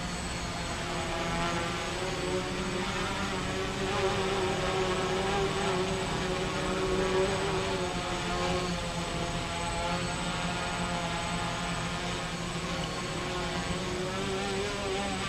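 A multirotor drone running ArduCopter on a HobbyKing Predator 650 frame hovers and flies with a steady, droning whine of propellers that stays even and fairly near throughout.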